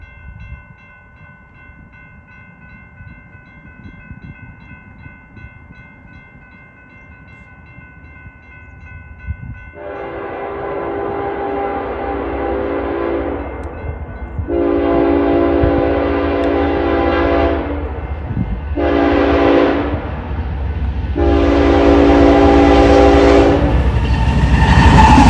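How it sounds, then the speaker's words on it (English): A BNSF geometry train rumbles past at about 70 mph with clattering wheels, then its horn blasts several times in long, loud chords that grow stronger toward the end. "Geometry train's a 70 miler from what it sounds like."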